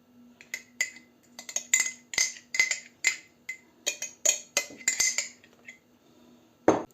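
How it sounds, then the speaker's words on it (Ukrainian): Cake dough for an old-style Ukrainian layered pastry being mixed in a bowl, a spoon or utensil clinking and scraping against the sides in irregular bursts, close and fairly clear, with a steady low hum underneath. "І замішуємо тепер тісто таке."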